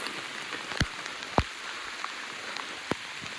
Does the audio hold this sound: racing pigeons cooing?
no